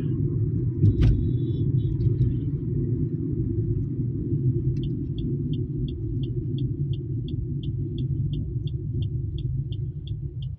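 Vehicles idling at a fuel station, a continuous low engine rumble close by, with a thin repeating beep running through the second half.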